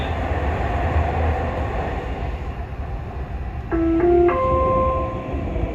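A Dubai metro train pulling into the terminal, a steady loud rumble and whoosh with a short electronic chime of rising tones near the end.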